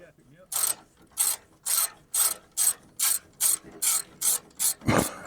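A ratchet tool backing out screws, eleven crisp clicking strokes in an even rhythm, close and loud, ending with a duller knock.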